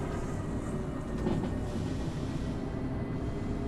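A train in the Derail Valley railway simulator game rumbles steadily with a dense low-frequency roll and a faint passing swish partway through, a continuous loud drone with no talk over it.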